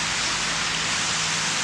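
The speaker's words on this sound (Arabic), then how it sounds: "من المطر في غير أوانه" Steady, dense rain pours down on a farm field of blackened grain, a broad continuous hiss with no breaks and no voices.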